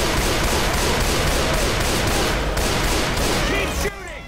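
Dense, continuous gunfire from several weapons fills the Left 4 Dead 2 action, a loud, sustained rattling barrage that cuts off abruptly near the end into quieter game sounds.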